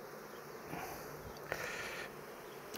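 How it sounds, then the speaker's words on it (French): A constant drone of many bees buzzing around a small nucleus hive, steady and fairly quiet throughout, with one short tap partway through. "il y a des abeilles un peu partout autour de la ruchette"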